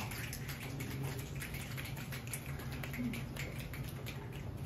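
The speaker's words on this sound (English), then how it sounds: "Please, snap your fingers for Bob." An audience at a performance art show snaps their fingers, many soft overlapping snaps forming a faint, steady patter that continues throughout.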